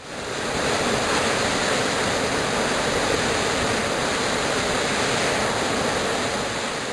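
Glacial meltwater stream on the Greenland Ice Sheet roars steadily and loudly, a dense continuous wash of noise close by, with no voices.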